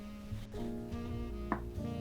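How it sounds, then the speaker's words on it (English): A knife finely chopping fresh parsley for a creamy tuna pasta gives a few close, soft taps on a board, set over a low background hum. "Finely chop the fresh parsley."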